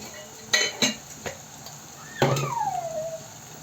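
A spoon scrapes and clinks in a pan as turmeric is stirred into frying ginger-garlic paste for mutton curry, with a few distinct taps followed by a longer scraping stir over soft sizzling.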